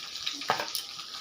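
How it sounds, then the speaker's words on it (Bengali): Eggplant is sautéed in a pan with turmeric, chili powder and salt, a quiet sizzle with a few brief stirring scrapes. "বেগুনটাকে ভালো করে একটু কষিয়ে নেব।"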